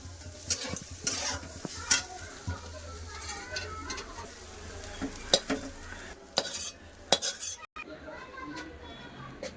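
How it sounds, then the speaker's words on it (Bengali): Cauliflower and carrot fry in a pan while a utensil stirs and scrapes, soft sizzling under repeated clinks and knocks against the metal, fairly quiet and close. "ভালো করে ফুলকপি গাজর ভাজা দেখুন"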